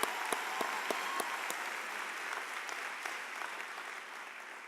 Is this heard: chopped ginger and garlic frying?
no